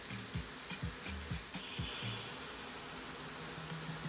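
A butternut squash flatbread sizzles steadily in a pan over medium-low heat, a continuous close frying hiss with faint soft clicks and no talk.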